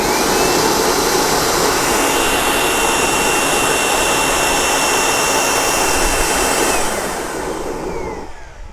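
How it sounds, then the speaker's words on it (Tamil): A homemade waste oil stove roars steadily and loudly once lit, a constant breathy rushing burn like a blowtorch that eases off slightly near the end. "கபகபகபன்னு எரிய ஆரம்பிச்சிருச்சு."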